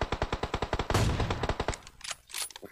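A rapid burst of automatic gunfire in the mobile battle royale game BGMI, about a dozen evenly spaced sharp shots fired close and loud, then fading into scattered quieter game sounds.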